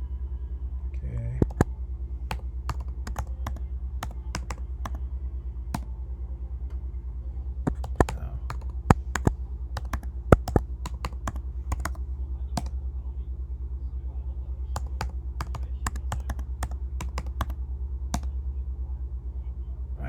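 Someone types a password on a computer keyboard: sparse, irregular key clicks spread across the stretch, close but light, over a steady low rumble.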